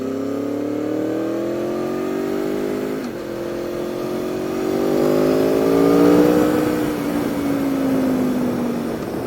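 A 2013 Aprilia Tuono V4 motorcycle engine revs up and holds a rising, buzzing whine close by, easing back and swelling again with no talking.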